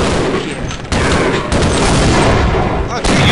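Dense, loud Half-Life gunfire, with rapid shots and booming blasts packed tightly together in a continuous barrage with no gaps.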